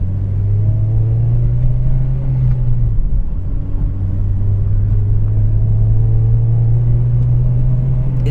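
Honda Civic Type R FD2 engine droning steadily while driving, a loud, close, continuous hum with a brief dip in pitch midway as the car shifts, then holding steady again.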